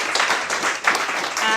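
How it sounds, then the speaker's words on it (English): Audience applause at a coding bootcamp graduation showcase, a steady dense wash of clapping that swells briefly near the end of a group's presentation, filling the whole moment without talk. "Another big round of applause for Cold Front."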